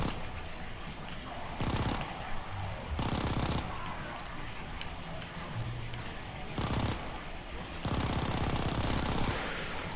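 Repeated bursts of gunfire in a World War II zombies video game, several loud volleys over ten seconds with gaps of quieter ambience between them.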